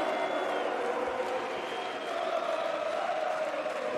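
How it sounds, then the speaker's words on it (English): Arena crowd at the StarLadder Major Berlin 2019 esports event, NRG versus Astralis, roaring in a steady, dense wash of cheering and scattered clapping that holds loud and constant throughout. "Just going to let the crowd do the talking for a moment."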